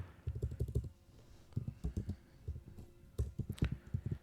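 Typing on a computer keyboard in a home room, quiet clusters of rapid clicks in short bursts separated by brief pauses, close by and alone.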